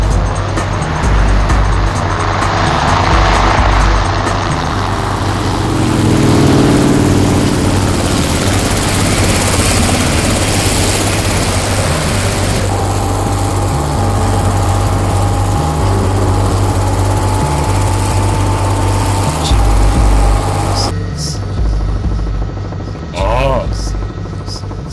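A helicopter is flying overhead during a motorbike chase, and its steady loud rotor and engine drone runs throughout alongside other engine noise, with people talking over it.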